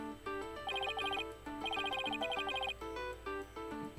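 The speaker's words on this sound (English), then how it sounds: "With Mr. Ryan's cell phone." Cell phone ringtone from the Phoenix Wright Ace Attorney video game, a bright electronic melody of rapid repeated tones in two long bursts, then shorter chirps, clear and alone with no talking.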